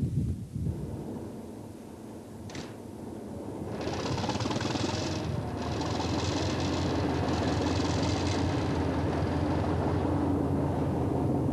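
A Class 205 '3H' diesel multiple unit runs on the Hastings–Ashford line, a low steady engine drone building as rhythmic wheel clatter and hiss join in and hold at a moderate, continuous level.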